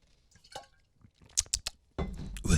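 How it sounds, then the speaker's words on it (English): A few close, wet sips of electrolyte water drawn from a bottle, short and separate, ending with a louder burst of rustling noise. "let me sip on my Tom Brady electrolyte water"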